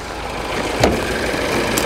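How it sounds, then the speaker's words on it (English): A Mini Cooper engine idles with the bonnet open, a steady close mechanical hum with one brief louder knock partway through. "Let's pop the bonnet while the engine's running."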